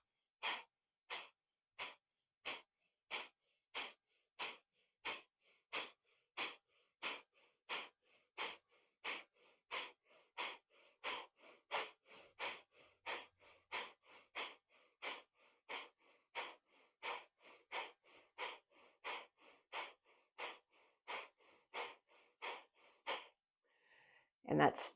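Forceful breathing exercise through the nose: a long run of sharp, evenly spaced exhale bursts about once a second, close and clear, pausing briefly near the end before a final louder breath.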